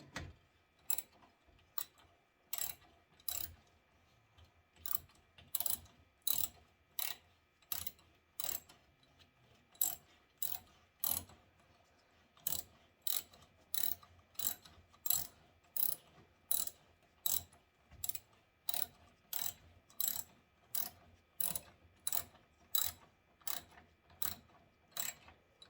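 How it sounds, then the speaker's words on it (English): Hand ratchet tightens radiator mounting bolts on a 1991 Ford Ranger XLT, sharp close clicks in quick regular bursts with brief pauses between strokes, loud against an otherwise quiet background. "I'm just tightening up these two bolts on each side here."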